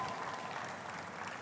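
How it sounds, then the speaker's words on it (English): Audience applause for a speaker at Nigeria Fintech Week, a steady even wash of many hands clapping, fairly faint and distant, filling the whole short stretch. "I think she's deserving of a round of applause."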